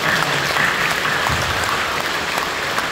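A church congregation at a Sunday worship service in an Incheon Full Gospel church applauds warmly, continuous dense clapping holding at a steady, fairly loud level for the full three seconds.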